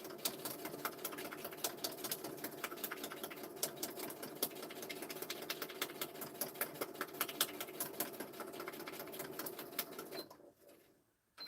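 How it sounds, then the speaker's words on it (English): A domestic sewing machine stitching a giant fabric ruffle embellishment runs steadily with a fast, even mechanical chatter and hum for about ten seconds, then stops abruptly near the end. "Let me stitch that one together as well."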